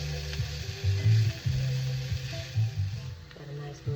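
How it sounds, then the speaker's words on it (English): Potatoes fry in a pan for a frittata with green onion, giving a steady close sizzle with occasional stirring and scraping sounds. "Got a nice little sizzle going on."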